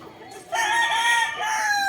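A rooster over three years old crows loudly and close by, a long drawn-out call, with faint clucking of chickens in the background before it.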